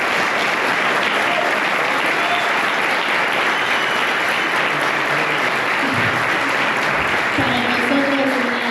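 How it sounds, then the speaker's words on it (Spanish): Loud, sustained applause from an audience at a university event honoring the JUB general secretary, dense and continuous throughout with a few faint voices mixed in. "le vamos a dar un fuerte aplauso a nuestra compañera"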